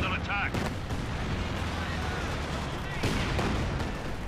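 Artillery creeping barrage in a video game, a dense continuous rumble of booming shell impacts with sharp bursts near the start and around the three-second mark, loud and sustained throughout.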